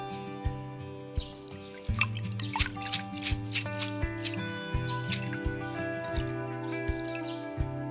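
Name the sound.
draining soaking water from glutinous rice and rinsing it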